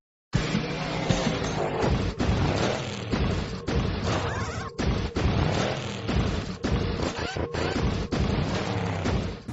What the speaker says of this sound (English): that's the sound of a Countach at high revs